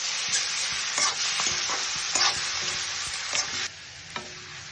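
Chinese-style chicken meat fries with spices in a pan, giving a constant close sizzle broken by scraping stirs and clatters of the utensil against the pan.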